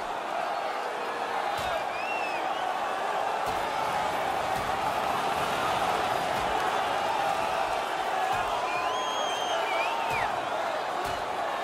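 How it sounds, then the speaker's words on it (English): Ice hockey arena crowd roaring steadily during a playoff fight, a dense sustained wash of cheering with scattered whistles, thuds and whoops throughout, with speech in the mix. "The crowd is on their feet, and they're trying to give their teams a little spark."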